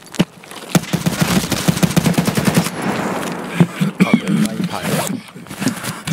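Rapid automatic gunfire in Escape From Tarkov, loud bursts of closely spaced shots with a few single cracks, heard alongside players talking.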